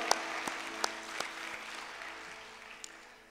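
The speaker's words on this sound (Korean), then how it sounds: "우리 하나님께 다시 한번 우리 박수로 영광 돌리겠습니다" Applause from a church congregation at a Friday worship service, a short round of clapping with a few sharp claps that quickly fades away.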